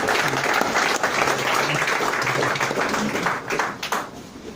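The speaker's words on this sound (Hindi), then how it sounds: "मैं चाहूंगा गोपाल जी का आप तालियों के साथ स्वागत करिएगा" Audience at a sales meeting clapping to welcome a new colleague, a dense, loud burst of applause that holds steady before thinning out near the end.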